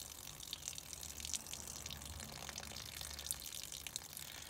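Water draining and trickling out of plastic interior trim from a Crafter camper van conversion, a steady soft gush with scattered drips, fairly quiet and continuous with no talking.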